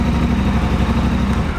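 A Triumph 1200 twin motorcycle engine running steadily at a low, rumbling idle just after starting, loud and close, with no voices over it.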